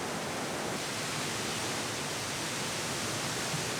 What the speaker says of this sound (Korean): 코끼리처럼 크고 강하다는 엘리펀트 폭포.